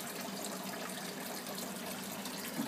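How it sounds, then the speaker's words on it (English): Water pouring into an aquaponics grow bed as it nears the auto-siphon point, a steady soft gushing and trickling that runs evenly throughout. "one of my grow beds, looks like it's about to auto siphon"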